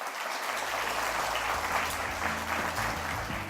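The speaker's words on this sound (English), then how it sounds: "Let's give them a round of applause." An audience claps steadily at an anniversary event, a sustained wash of applause lasting several seconds with some low background hum underneath.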